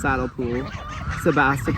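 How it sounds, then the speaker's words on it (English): A young Sebastopol-mix goose honks several times in quick succession, close and loud, with harsh nasal calls separated by brief pauses. "This is one of our little mixed grow-out geese right here"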